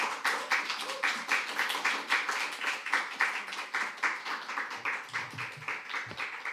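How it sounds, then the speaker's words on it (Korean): A church congregation at a Sunday combined worship service claps in welcome, a steady rhythmic stream of hand claps at a moderate distance, fading slightly toward the end with faint murmurs. "나올 때 격려하면서 박수로 우리 찬양하도록 하겠습니다"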